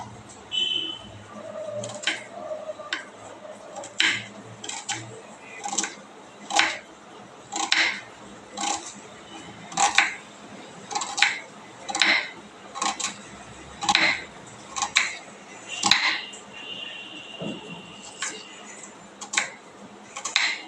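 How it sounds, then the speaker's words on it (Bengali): A knife slices onions thinly on a cutting board while preparing chicken curry with coriander, making steady, close, evenly spaced taps roughly once a second. "তো পেঁয়াজগুলোকে আমি প্রথমে ঝিরিঝিরি করে কেটে নেব।"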